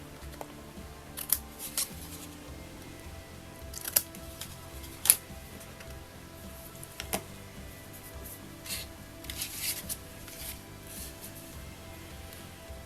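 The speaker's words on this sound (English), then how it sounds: "We can trim off the edges of the overalls." Scissors trim the edges of a paper card cutout, a quiet close series of sharp snips at irregular intervals against a soft background, with no talk.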